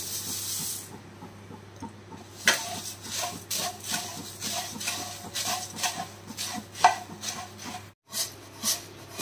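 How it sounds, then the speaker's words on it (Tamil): Puffed rice is poured into a pan of coconut oil with curry leaves, making a steady rustling hiss with soft sizzling and scattered taps. The sound cuts out briefly near the end. "இப்ப அடுத்து நம்ம பொரிய அதில் கொட்டிக்கலாம்."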